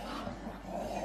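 A dog's low, continuous growl rumbles close by for about a second, steady and menacing with slight rises in intensity, with no talking over it.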